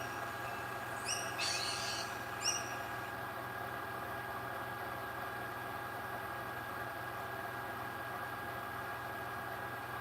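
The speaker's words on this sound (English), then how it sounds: "We've only got one kookaburra" A kookaburra gives a short burst of calls early on, faint and somewhat distant, over a constant low engine-like hum that continues alone for the rest of the stretch.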